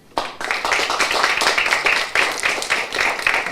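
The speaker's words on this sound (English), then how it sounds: "Please go ahead and answer by applause" Studio audience at a televised town-hall debate on race relations and police breaks into sustained loud applause, dense overlapping clapping lasting throughout.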